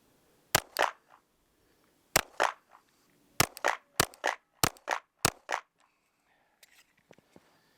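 Several sharp Glock 48 pistol shots ring out in the cold at an outdoor target, spaced in uneven pairs and singles, each a loud crack with a short tail, followed by faint rustling.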